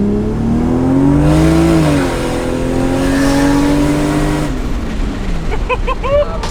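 Home-built single-turbo 1JZ Toyota Soarer accelerating hard on a street pull, loud revving engine tone climbing through gears with short shift breaks, close and dominant throughout, ending with a burst of higher-pitched whine and chatter.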